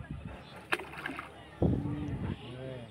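A hooked fish thrashes and splashes in the water while being reeled in with a rod, short close sloshes and a louder splash burst, under a voice speaking.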